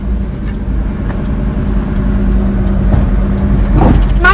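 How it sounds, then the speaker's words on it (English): Inside a car, a steady engine drone hums with a rising note as the driver shifts up into fourth gear, loud and close with no speech over it. "My church driver, see the way he's changing gear."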